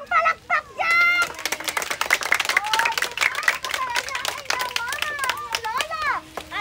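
Bursts of clapping break out under lively chatter and children's voices at a 57th birthday celebration in a hotel restaurant in Manaoag, Pangasinan, with talking continuing over the applause throughout.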